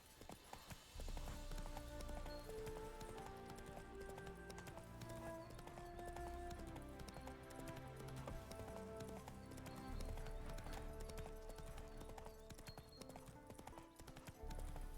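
Roach the horse galloping in The Witcher 3, a steady rhythmic clip-clop of hooves under a constant game music bed, with no talk.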